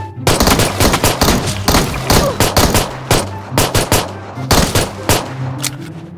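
Rapid pistol gunfire in the Metro video game, shots fired at bots in quick irregular bursts, loud and close, with a continuous low hum beneath and no talking.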